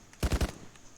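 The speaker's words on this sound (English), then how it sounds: "when you've got a lot of people firing on a position" Arma 3 gunfire: a quick burst of three sharp, heavy automatic shots in fast succession, close and punchy, then a faint echo tail.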